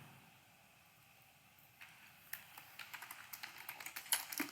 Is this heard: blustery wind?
no